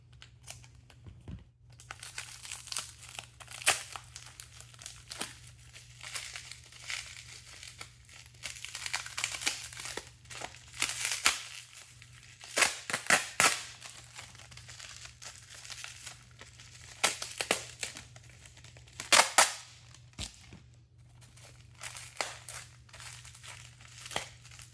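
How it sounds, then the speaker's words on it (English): Tape and plastic packaging pulled and peeled off a boxed replica animal skull, a close run of crinkling, crackling and tearing bursts in uneven clusters with brief quiet gaps, fairly soft, no talking. "I gotta kind of squeeze on it to pull off the tape"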